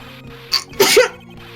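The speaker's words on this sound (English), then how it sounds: "Could you please stop sneezing every time you're in a bind?" A character in Ace Attorney: Trials and Tribulations sneezes, a quick sharp intake followed by a loud explosive burst over a soft looping game music bed.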